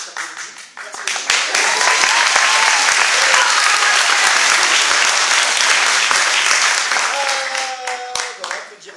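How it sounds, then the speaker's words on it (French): A live show audience bursts into loud, sustained applause, building quickly to a dense roar of clapping with some cheering, then tapering off toward the end. "Merci beaucoup pour tout ça, tous ces applaudissements"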